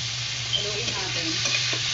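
Pork spareribs for adobo frying in a pan while being stirred, a close, steady sizzle with soft scraping and shifting of the meat, no voices.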